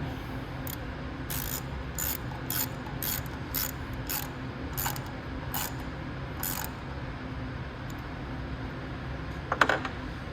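Screws being tightened on a FIRMAN generator carburetor during cleaning, a series of quick metallic ratcheting clicks in bursts, close and moderately loud, over a steady low hum, with no talking.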